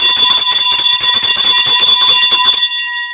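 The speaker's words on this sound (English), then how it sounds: "Let me ring the bell for both attorneys." A single bright bell rings out to open a debate between two attorneys on a panel show. It is loud and close, and its ringing tone holds for about two and a half seconds before cutting off.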